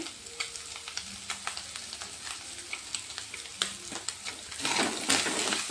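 Pointed gourd pieces sizzle and crackle in hot oil in a pan, with steady frying hiss, scattered pops and scraping stirs, growing louder and denser toward the end.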